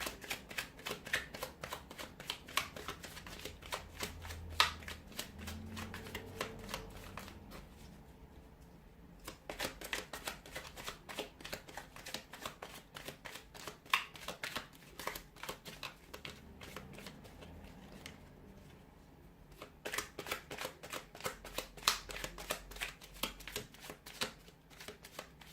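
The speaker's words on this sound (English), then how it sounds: "give the cards a shuffle" Tarot cards being shuffled repeatedly in quick riffling bursts, each lasting several seconds with short pauses between, close and fairly quiet.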